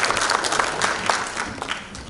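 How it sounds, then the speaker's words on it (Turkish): Audience applause fills a hall as a speaker is welcomed to the stage, a brief, dense burst of many hands clapping at once. "alkışlarınızla sahneye davet ediyorum"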